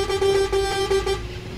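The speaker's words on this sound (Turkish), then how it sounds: "Korna süper ya bunun." A bus horn in the OMSI 2 bus simulator game, on a Renault Karosa bus: a loud, sustained, slightly wavering horn tone held for over a second over low engine rumble, then cut off.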